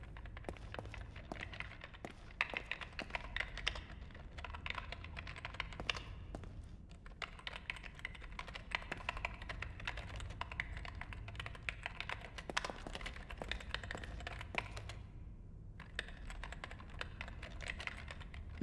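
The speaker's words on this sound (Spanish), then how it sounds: "parece como si alguien estuviera tecleando, ¿no? Tecleando en un ordenador o algo así." Rapid keyboard typing in The Evil Within video game, a steady clatter of keystrokes in bursts with brief pauses, fairly close and moderately loud, running for the full stretch.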